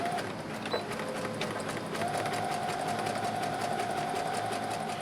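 A sewing machine runs a zigzag stitch along the raw seam edge of a pioneer dress sleeve, a continuous close whirring hum with a steady rapid needle rhythm after a brief pause.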